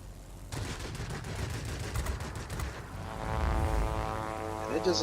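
Rapid bursts of aircraft cannon fire crackle over a droning engine and busy game-like noise, with a voice briefly audible beneath the din.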